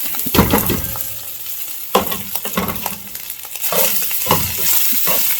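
Cooked rice tipped into a hot pan with hot dogs for fried rice, bursting into loud, steady frying and sizzling with repeated scraping stirs, no voices.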